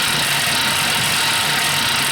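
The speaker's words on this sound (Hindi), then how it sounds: "ये साइकिल बहुत शोर कर।" Noisy old exercise bike in a Peppa Pig cartoon, a continuous loud whirring, rattling drone heard alone and steady throughout.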